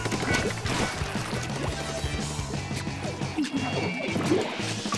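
A Rapid Blaster Elite in Splatoon 2 lands a direct hit amid busy gameplay, with sharp blasts and splashy impacts layered over a dense, loud mix of game effects and music.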